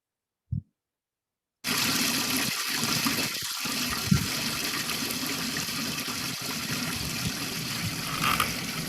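Muddy brown water gushes steadily from a tap, a continuous loud rushing stream that starts abruptly after a brief knock and runs on alone.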